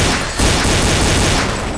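Airsoft guns fire in Counter-Strike: Condition Zero Deleted Scenes as a loud, dense burst of gunfire. A brief dip comes near the start, then the shooting continues steadily.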